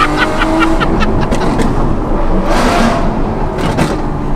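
A Lamborghini SVJ fitted with a Secret Weapon exhaust revs hard nearby on a road near an overpass, loud rising and falling bursts over steady road and engine roar.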